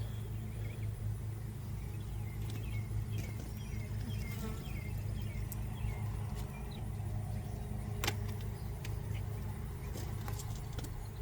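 Honeybees buzz around an opened hive during an apiary inspection, a steady close drone with a low rumble beneath and occasional faint clicks.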